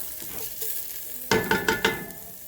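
Onions and garlic frying in oil in a pan left too long on the stove, a soft sizzle that flares into a louder crackle halfway through, with several quick stirring scrapes.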